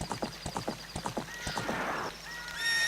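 A horse in The Legend of Zelda: Ocarina of Time Master Quest clip-clops along in a quick rhythmic trot, then lets out a high, drawn-out whinny, with no talking.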